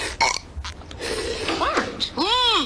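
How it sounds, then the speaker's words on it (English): Exaggerated cartoon burps ring out during a family burping contest in a Simpsons short, several loud stretched belches in a row, the last long and warbling, with dialogue around them. "We're having a burp contest, Mom."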